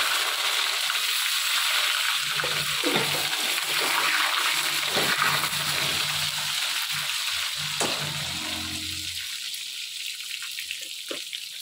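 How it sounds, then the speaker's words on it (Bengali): Eggplant frying in hot oil in a pan gives a steady, bright sizzle throughout, with occasional soft clatters and stirring knocks nearby that ease slightly toward the end. "একটু বেগুনগুলো ভেজে নিই"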